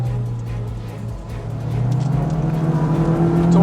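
A Honda Civic Type R engine revs hard as VTEC engages, then drops into second gear, a loud continuous car drone with a rising tone that builds in intensity.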